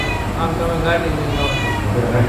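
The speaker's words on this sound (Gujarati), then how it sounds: "આ બિલાડી જો મ્યાઉ મ્યાઉ કરે છે" A cat meows a couple of times at close range while people talk over it, near the Pandav cave on a hill near Junagadh.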